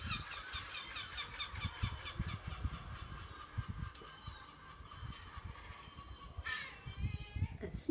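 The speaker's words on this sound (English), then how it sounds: "The seagulls are really going for it today" Seagulls calling outdoors, a series of faint repeated squawking cries over low rumbling background noise, with a louder cluster of calls near the end.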